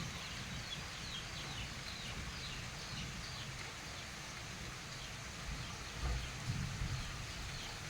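Steady rain pours outdoors under a darkened sky with wind picking up, a dense continuous hiss with low rumbles of thunder swelling near the end, heard alone without talk.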